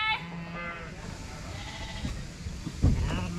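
Sheep bleat in and around a shed while ewes are moved, with a drawn-out bleat early and a louder one near the end over low farmyard noise.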